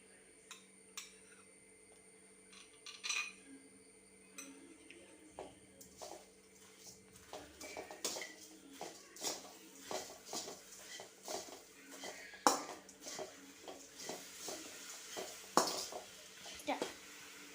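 A spoon stirs a sticky evening snack mixture as melted jaggery is poured in bit by bit, giving irregular clinks and soft scrapes against the bowl that grow busier and louder toward the end.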